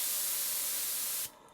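A model Markie steam traction engine's safety valve blows off steam at 50 psi, a close, loud, steady hiss that cuts off sharply after about a second, leaving a faint residual hiss.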